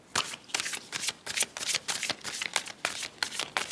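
Tarot cards shuffled by hand in a series of quick, close riffling bursts with short pauses between them, each pass a crisp papery flutter; no one speaks.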